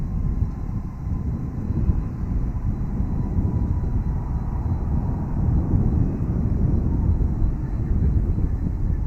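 A jet airliner lands at DFW airport, heard as a steady, loud low rumble of engine and roll noise mixed with wind buffeting, holding at an even level throughout with no voices.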